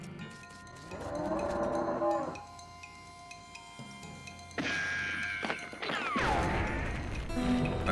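Mooing cattle in the video game West of Loathing, infernal cow spirits bound in stone from a dairy herd: several long, loud, drawn-out moos in succession, with thuds and clanks between them.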